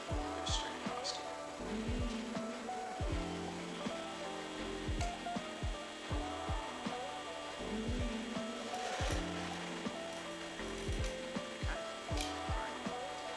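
A steel scribe with a steel rule scrapes horizontal layout lines across sheet steel for a tool box tray handle, giving repeated gritty rasping strokes with small knocks, close and continuous over a busy workshop background.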